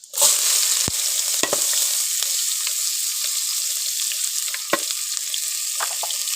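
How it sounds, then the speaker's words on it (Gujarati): Garlic and onions sizzle steadily in a hot pan for a Gujarati dhaba-style sev tameta curry, a close, continuous frying hiss with a few sharp clicks of a spoon or pan along the way. "હવે કાંદા નાખી દઈશું."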